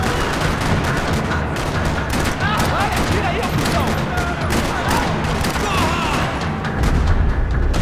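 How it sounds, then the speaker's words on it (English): Dense, continuous gunfire fills a parking lot shootout in the video game Max Payne 3, with rapid overlapping shots and heavy thuds, loud throughout and swelling near the end. "Another parking lot rattling with gunfire."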